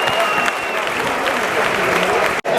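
Football crowd at a Dundee versus Inverness cup match applauding steadily after a badly skied missed shot, a dense wash of clapping filling the stadium with a brief cut near the end.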